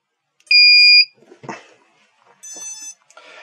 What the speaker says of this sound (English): That incessant beeping is actually the low voltage alarm.